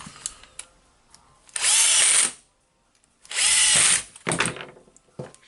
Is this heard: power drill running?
yes